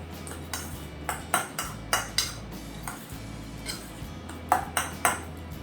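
A spoon stirs salsa in a bowl, tapping the rim in a run of bright, close, ringing clinks at an irregular pace, with faint mixing between taps and no talking.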